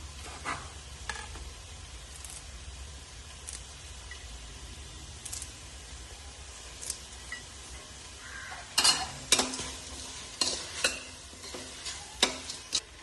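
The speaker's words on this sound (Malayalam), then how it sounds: "ഇപ്പം നമ്മുടെ ഉള്ളി വാടിക്കൊണ്ടിരിക്കുകയാണ്" Onions sauté in a pan for dum biryani, a soft, low sizzle under intermittent stirring scrapes and sharper utensil knocks that grow busier toward the end, close but fairly quiet.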